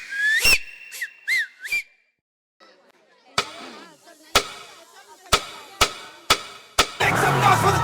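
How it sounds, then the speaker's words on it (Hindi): Several short, bright whistled notes ring loud and close through a microphone at a wedding sangeet ceremony. A pause follows, then a run of sharp, loud claps or bangs over a busy crowd. "मैं चाहता हूँ एक बार आप सीटी मेरे माइक पे बजा दो इन बच्चों के लिए प्लीज"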